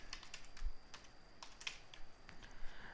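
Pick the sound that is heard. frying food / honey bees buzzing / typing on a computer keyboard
typing on a computer keyboard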